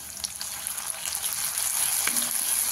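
Green chillies sizzling as they are stirred in hot oil for besan zunka, a steady broadband frying hiss with a few soft scrapes from the spoon, close and continuous with no voices.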